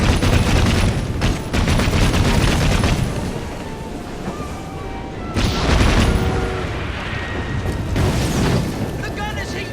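Heavy machine-gun fire in the video game Assassin's Creed Syndicate, in dense sustained bursts mixed with booming blasts, loud and continuous, with voices shouting over the chaos.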